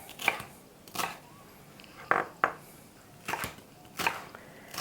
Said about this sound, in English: And now I'm just going to dice these.